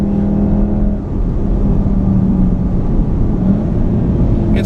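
A 2015 VW Golf R pulls hard along an open road, its engine note rising steadily and loud from inside the cabin, with no voices over the sound.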